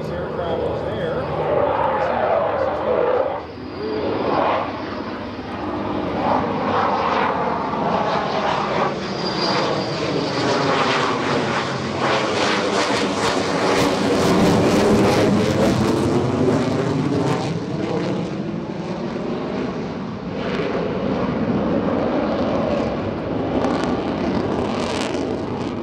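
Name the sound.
F-16 jet intercepting a small aircraft at air show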